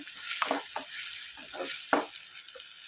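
Fish roast masala gravy is stirred on a low flame in a pan. A soft bubbling sizzle runs under several scraping strokes of a spoon, and a faint voice can be heard in the background.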